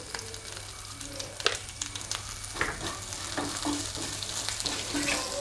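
Green chillies sautéing in hot oil in a pan while pumpkin flowers are being prepared, a steady close sizzle broken by repeated clinks and scrapes of stirring, and no talking.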